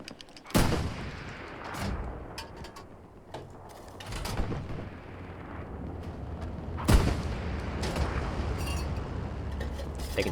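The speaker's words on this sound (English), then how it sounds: "Taking shots from somewhere." Gunfire and distant artillery in Hell Let Loose at El Alamein, with sharp loud cracks and booms scattered over a rumbling battlefield background, some shots near and others far off.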